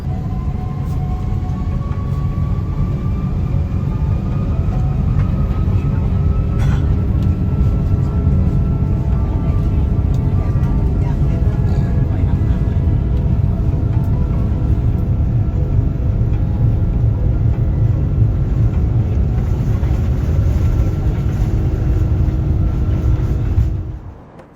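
A steady, loud cabin roar fills a Cathay Pacific Airbus A330-300 in regional business class during takeoff from Seoul Incheon, with engine tones rising slowly and the rumble holding constant before cutting off abruptly.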